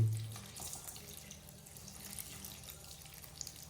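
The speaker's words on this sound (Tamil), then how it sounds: "இப்போ வந்து பாலை ஊற்ற போகிறேன்" Milk poured into a clay pot of live small fish for a Madurai-style fish curry, a steady soft liquid trickle and splash running throughout, faint and close, with no talking.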